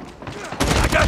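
Gunfire in Call of Duty Mobile, quieter scattered shots that give way to a loud, dense close burst of rapid fire in the second half.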